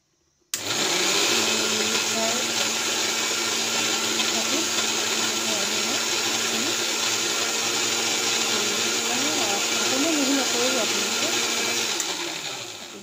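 A kitchen mixer grinder jar whirs loudly as it grinds cooled ingredients without water, starting abruptly and holding a steady, close motor drone for about twelve seconds before cutting off.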